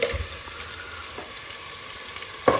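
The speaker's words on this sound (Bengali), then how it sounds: "পেঁয়াজটাকে আমরা খুব বেশি ভাজবো না" Onions frying in hot oil in a pan with garam masala added, a faint, even sizzle heard close up, with a brief clink or stir at the start and another near the end.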